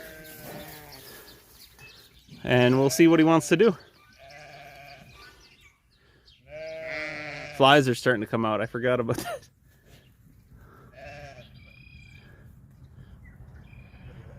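Sheep bleating in a corral that now holds a bull, two bursts of loud, wavering bleats near the microphone with someone talking quietly between them.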